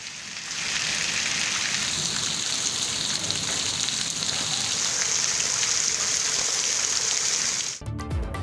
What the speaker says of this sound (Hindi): मुल्क के मुख्तलिफ इलाकों में बादल बरसने का सिलसिला जारी।